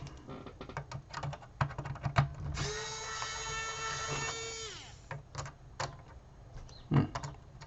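A power screwdriver drives screws while repairing a M.A.S.K. Slingshot toy. A steady, rising electric whine lasts about two seconds, set among quick, close plastic clicks and taps before and after.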